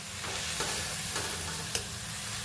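Fenugreek greens sautéing in oil over a high gas flame: a dense, steady close-up sizzle with soft scraping stirs at a few points, and no talking.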